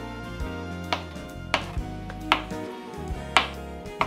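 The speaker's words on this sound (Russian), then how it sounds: "мелко режем" Mushrooms being finely chopped with a kitchen knife on a board, several sharp, distinct knife strikes at irregular intervals, close up and with no voices.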